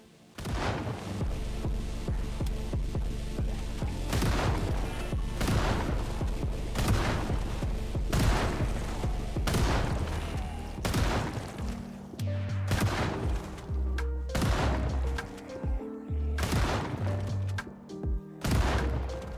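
A shotgun fires again and again at zombies in Project Zomboid, about a dozen loud booming blasts spaced unevenly across a constant dense background.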